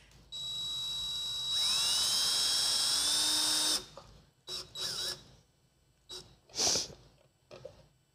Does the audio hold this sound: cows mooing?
no